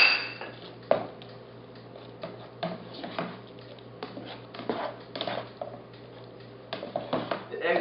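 Eggs and cheese being stirred in a pan for a breakfast burrito, heard as scattered soft scrapes and clinks of a utensil against the pan, spaced unevenly over a quiet background.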